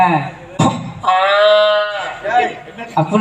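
On the stage of a Tamil folk drama, a performer's voice imitates a bull's moo as one sustained, nasal, bleating call of about a second. Spoken dialogue comes just before and after it.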